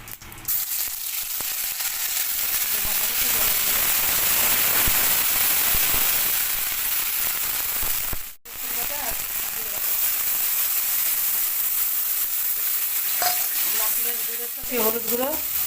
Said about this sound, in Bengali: এবার দিয়ে দেবো আদা বাটা।